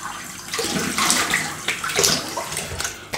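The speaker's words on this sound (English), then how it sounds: "Quick rinse, cold water." Cold water runs steadily from a tap, splashing and gurgling as it is used for rinsing during a wet shave, close by with no talking.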